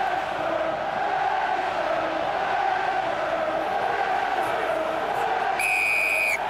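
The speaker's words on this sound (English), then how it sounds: "As the full-time whistle blew, the packed crowd at the RDS celebrated a win for the team in blue." A packed rugby crowd cheers at the RDS as the full-time whistle blows, a steady dense roar of voices held at an even level, with a whistle-like tone near the end and a voice talking over it.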